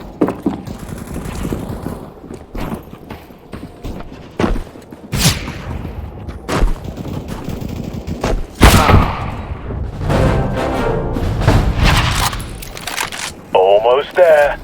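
Gunfire in CSGO Team Deathmatch on the Militia map: repeated sharp shots and short bursts, some near and loud, others more distant, continuing over about fifteen seconds with game announcer voice lines mixed in.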